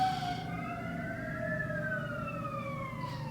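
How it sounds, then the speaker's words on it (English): A faint emergency-vehicle siren wails and sweeps up and down in the distance outside, over a low steady hum of traffic. "Anytime I hear like sirens or anything"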